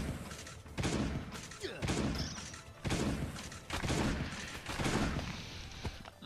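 Repeated shotgun blasts from a combat scene in the survival video game Last Day On Earth: Survival, with several loud booming shots at irregular intervals over game background noise.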